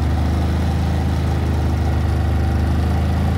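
Harbor Freight Predator portable generator running steadily just after a cold start at six degrees, a constant low engine drone with even vibration and no talk.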